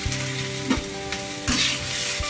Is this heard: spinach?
yes